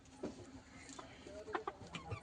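Chickens that have just been given worming medicine cluck softly in a few short, scattered calls nearby over low background noise.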